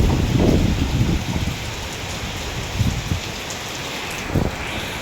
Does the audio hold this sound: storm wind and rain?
yes